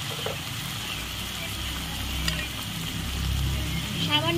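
Spices with turmeric and chili powder sautéing in a pan for Bengali shukto, a dense steady sizzle close by with a few faint stirring scrapes.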